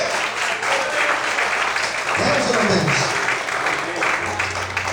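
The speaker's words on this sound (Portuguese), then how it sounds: "Você pode aplaudir o Senhor bem forte." A church congregation applauds loudly through a sermon, with dense continuous clapping running beneath a preacher's voice as he speaks over it.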